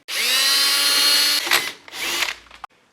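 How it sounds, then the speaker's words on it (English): A power drill bores bolt holes through a metal bar for a 4L80E transmission install in a third-gen Camaro: a loud, steady high-pitched whine for over a second, then two shorter bursts as the bit cuts through. "So I just drilled both holes"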